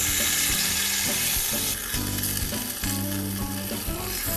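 Salted, black-peppered meat sears in a hot pan, a continuous close sizzle with occasional clinks and shifts, no voices over it.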